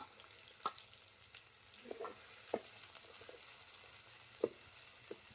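Onions and tomatoes fry in a pan with cumin, a faint, low hiss of sizzling dotted with occasional soft clinks and taps from stirring, quiet and without voices.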